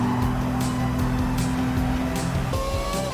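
The inline-six of a 1952 Mercedes-Benz 300 SL in Gran Turismo 7 drones flat out around the Big Willow circuit, a loud steady engine tone with a pitch change near the end, plus faint repeated clicks.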